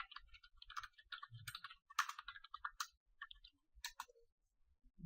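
Keys clatter on a MacBook keyboard as a terminal command is typed, a fast irregular run of light clicks and taps lasting several seconds, close and moderately quiet with no voice over them.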